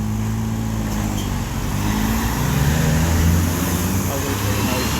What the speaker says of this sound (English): Bit of a traffic on a Saturday morning here in Appleton, Wisconsin.